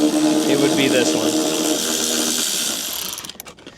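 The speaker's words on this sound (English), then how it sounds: "This 3/8 Milwaukee electric ratchet is a lifesaver." A 3/8-inch Milwaukee electric ratchet whirs close up, its motor buzzing steadily for a few seconds before slowing and stopping, with a voice over part of it.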